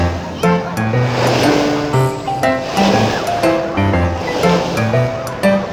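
Ocean waves roll and break on a beach in Batangas in a steady surging wash, close and fairly loud. Voices and bursts of chatter run on and off over the surf.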